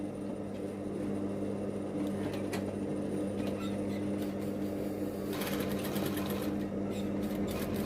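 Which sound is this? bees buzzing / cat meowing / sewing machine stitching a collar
sewing machine stitching a collar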